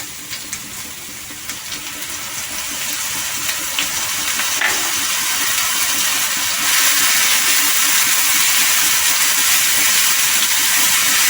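Onion and garlic paste hitting hot oil in a pan for Malvani fish curry, a close, bright sizzle that starts with scattered crackles and swells into a loud, continuous hiss, no voices.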